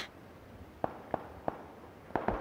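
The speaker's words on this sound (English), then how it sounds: "I'm hearing gunfire to the east." Distant gunshots in PUBG (PlayerUnknown's Battlegrounds) crack out as single sharp reports, four spaced apart and then a quick pair, over a faint ambient background.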